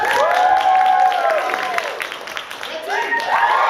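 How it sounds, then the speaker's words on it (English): An audience at a live show applauds and cheers for a team, a dense wash of clapping with whoops and shouting voices layered over it. "I want to hear your applause."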